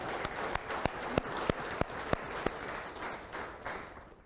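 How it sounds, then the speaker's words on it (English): A fairly quiet round of audience applause for capstone students at a showcase, with a few sharper individual claps standing out early before the clapping thins and fades toward the end. "Let's give them just one more round of applause."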